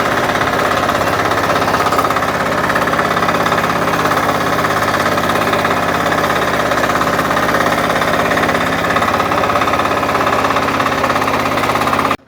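A KAMA 12 HP power weeder engine runs steadily and loudly up close, a continuous rough, knocking mechanical drone that holds without a break throughout.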